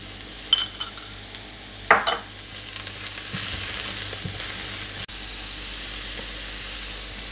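Garlic and onions with salt stir fried in a pan for chicken stir fry, a steady close sizzle with a few scraping stirs and utensil clicks early on, no talking.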